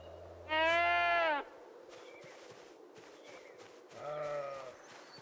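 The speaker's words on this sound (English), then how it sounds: "So what I categorize as happy sheep noises." Sheep in the modded Project Zomboid video game bleat twice, a loud drawn-out bleat followed a few seconds later by a softer one, with faint game footsteps between them.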